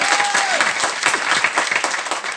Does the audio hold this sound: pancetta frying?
no